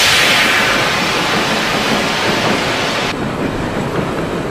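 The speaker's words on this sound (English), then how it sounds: "You get this train rolling." A train rolls along in the Fear Effect game, a steady loud rumble and rushing noise like wind, heard alone without voices.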